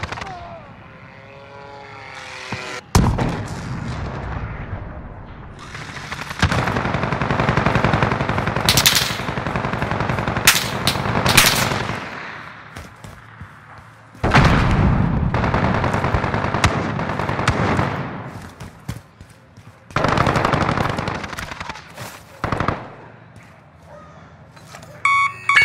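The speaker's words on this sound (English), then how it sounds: "Friendly sentry gun deployed." A deployed sentry gun in Call of Duty: Modern Warfare fires sustained automatic bursts during a team deathmatch, loud and dense, with brief pauses and sharp single shots mixed into the game action.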